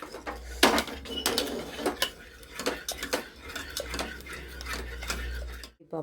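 Cooked dal mashed in a pot with a metal utensil, giving repeated scraping and clinking strokes at an uneven rhythm, close and moderately loud, with a low background hum and no talking.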